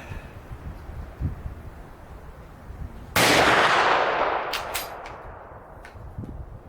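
A single loud rifle shot from an RTI Vetterli 10.4x47 cracks out after a quiet stretch of outdoor ambience, its blast decaying over about a second with a brief rattling echo.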